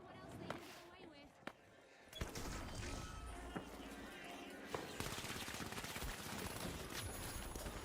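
Rapid bursts of automatic gunfire and sharp impacts from a shooter match in The Finals, dense and loud throughout, with someone talking over the action.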